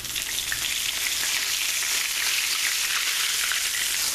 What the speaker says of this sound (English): And we're going to let it fry